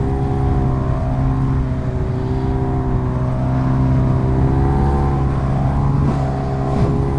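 A Kawasaki Ninja H2R supercharged motorcycle at full power, its engine holding a loud, sustained high-revving drone with layered harmonic whine, close and continuous from start to finish.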